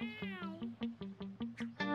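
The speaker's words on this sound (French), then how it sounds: "Le chat!" A cat meows repeatedly, about eight or nine close, clear meows in a quick steady series, with no talking.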